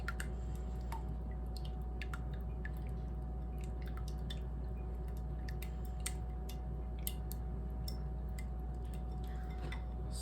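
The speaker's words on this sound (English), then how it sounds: "we're going to whisk these 2 together" Egg yolks and oil are whisked together in a bowl, with rapid, irregular light clicks and taps of the whisk over a low steady hum and no speech.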